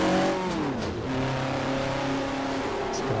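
A historic GT or touring race car's engine revs loudly in the rFactor sim racing game, with steady harmonic engine tones that dip and climb as the revs change, close and continuous throughout.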